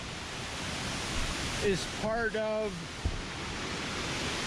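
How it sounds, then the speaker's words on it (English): Steady broadband rush of a waterfall at Cueva de los Guacharos in Colombia, constant and enveloping, with someone briefly talking over it partway through. "So yeah, this is the waterfall."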